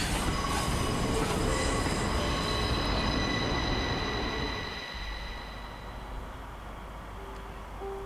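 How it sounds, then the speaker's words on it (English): A train passes in the video game Charnel House Trilogy, a loud rumbling rush with squealing metallic wheel tones that fades to a quieter steady hum partway through, with no talk. "And the train just disappears."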